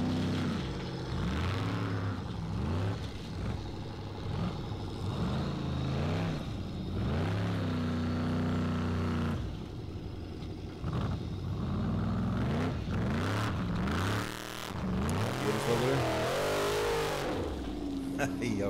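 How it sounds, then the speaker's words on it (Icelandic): A formula offroad truck with a 427 steel-block engine revs hard over and over at a torfæra competition in Blönduós, Iceland, in rising and falling surges. The loudest roar comes near the end, with an announcer talking throughout. "Hann er með 427 mótor í þessu."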